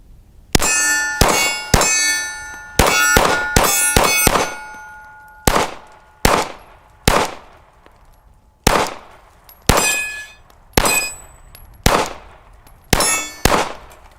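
A Glock 19X pistol fires at steel targets, with about sixteen sharp clangs and ringing dings. Several come in quick bursts, then the rest follow at steadier intervals, loud and close, with no talking.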